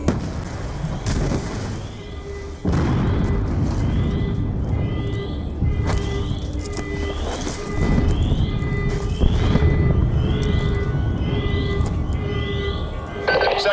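Multiple explosions rolling across a facility in the video game Call of Duty Black Ops II, heavy booming rumbles repeating through the clip over a dense, loud background with no talk.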